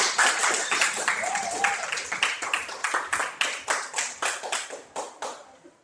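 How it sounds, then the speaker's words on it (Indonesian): A classroom group claps for a presenting group during a teaching practice session, rapid scattered hand claps that settle into a slower rhythmic beat of about a dozen claps, close and fairly loud, with a voice speaking briefly over the start. "Wah, tepuk tangan dulu."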